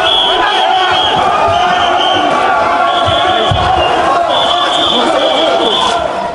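A hostile crowd of protesters boos and jeers at a National Front candidate arriving, a loud, sustained wall of shouting voices with rising whistle-like cries that stays close and packed throughout.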